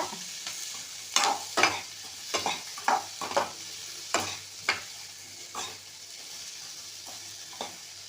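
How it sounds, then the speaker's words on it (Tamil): Tamarind and ginger being sautéed in a pan for mint chutney, with a light sizzle under repeated sharp scraping and stirring strokes from a spatula, close and fairly quiet, with no talking. "அதையும் சேர்த்து நல்லா வதக்கி விடலாம்"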